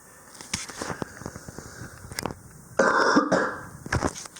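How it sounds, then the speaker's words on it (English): Person coughing and clearing their throat after eating a hot pepper, several separate harsh bursts with one louder, denser fit in the middle, close and fairly loud. "Oh, cough, wow."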